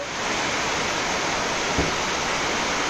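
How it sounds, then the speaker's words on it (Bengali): Heavy rain pouring down, a dense, even roar of broadband noise throughout with one brief thump near the middle, loud and unbroken with no voices. "এত জোরে বৃষ্টি হচ্ছে, আমরা ছাতা নিয়ে যাবো।"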